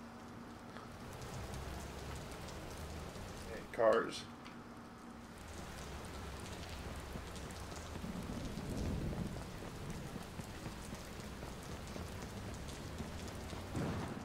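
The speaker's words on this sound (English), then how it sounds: "Why is it always gonna frickin' rain" Steady rainfall in the video game Watch Dogs patters throughout with a low rumble of thunder, while a voice briefly speaks a couple of words.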